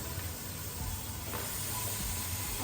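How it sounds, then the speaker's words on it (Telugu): Marinated chicken tikka pieces fry in a pan in their own oil from the marinade, giving a steady, faint, even sizzling hiss with no talking. "ఇలా ఫుల్గా వేసేసిన తర్వాత ఇలాగే ఫ్రై అవ్వాలండి"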